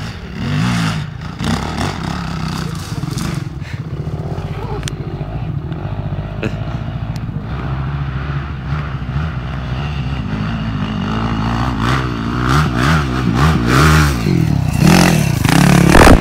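A motorcycle engine at an enduro event in Krzeszowice, Poland, idles and revs up repeatedly, loud and close, with rising and falling pitch and some rattling.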